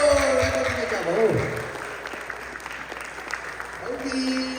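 A crowd at a Chin National Day celebration applauds in a sustained, clattering burst that is loudest at the start and then tapers off, while someone speaks over it on a microphone.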